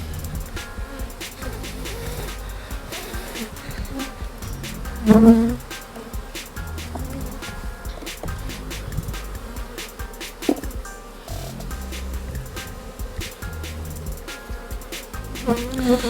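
Honey bees buzzing around an opened beehive frame during a varroa mite treatment, a dense continuous hum close by with occasional brief knocks of the frame.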